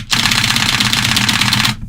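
A keyboard key is spammed at a rapid, even rate, producing a dense burst of sharp clicks that rattles close and loud for under two seconds before stopping abruptly.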